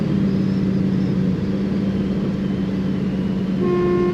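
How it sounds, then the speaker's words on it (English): A 1969 Studebaker Avanti II coupe horn sounds in two close, loud steady blasts, a long one followed by a shorter one after a brief gap, over idling engine and road noise. "The horn works."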